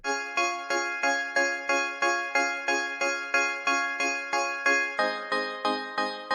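Organ-like synth patch from Serum with reverb removed and a sharp attack and decay, playing a steady run of about fourteen evenly spaced, bright chord stabs, each fading quickly, moderately loud and alone.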